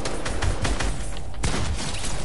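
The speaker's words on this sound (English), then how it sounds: "Oh, the drum gun is so bad." Rapid gunfire from a drum gun in a video game, a dense burst of repeated shots filling the whole stretch, close and loud.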